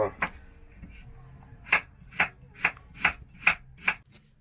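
A knife slices potatoes into thin 2–3 mm rounds for a tortilla, in a camper van kitchen: about eight crisp, close cutting strokes in a steady, even rhythm.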